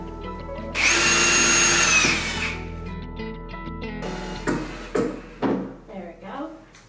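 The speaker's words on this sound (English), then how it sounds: "Drill some holes real quick." A power drill whines loudly for a couple of seconds as it bores holes into wood for a nightstand, followed by clattering knocks and handling noises.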